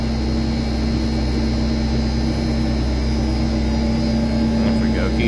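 A Fulton pulse boiler running, giving off a loud, steady mechanical drone with a strong constant hum and a continuous low rumble, with no change over the span.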